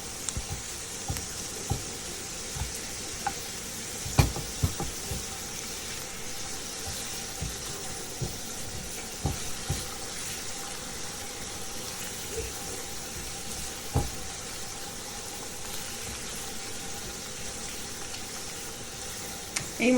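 Vegetables being mixed and fried in butter over low heat for shrimp and grits, giving a steady, moderate sizzle with scattered soft clicks of stirring throughout.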